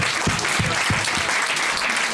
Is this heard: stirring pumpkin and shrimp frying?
no